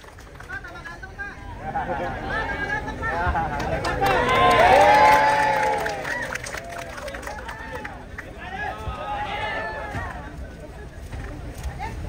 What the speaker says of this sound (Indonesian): Iya, beri tepuk tangan untuk kita semua.